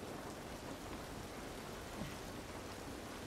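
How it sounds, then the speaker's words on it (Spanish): Heavy rain and thunder from a storm in the video game The Last of Us Part 1, a loud, dense, continuous downpour with a low rumbling undertone and no speech. "Madre mía, la lluvia, loco."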